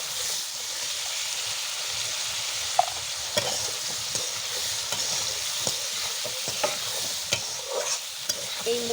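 Beef masala frying in a pan hisses in a steady sizzle while a spoon stirs it, scraping and clinking against the metal at irregular moments, close up with no talking.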